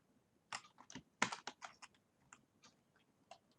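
Someone types Python code on a computer keyboard, making quiet, close key clicks in an irregular burst with a few sharper strokes, and no voices.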